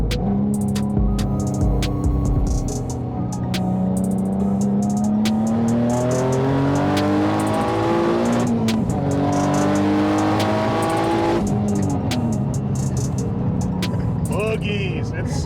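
A turbocharged car with a Garrett G series turbo, running on pump gas, accelerates hard, its engine note rising steadily through several gear changes. The roar is loud and close throughout, and voices can be heard over it.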